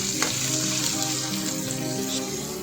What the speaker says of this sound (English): Now you can add chopped onions and mix it well.